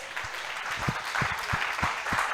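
A church congregation applauds, a soft, somewhat distant wash of many hands clapping with occasional louder thumps mixed in at a steady pace.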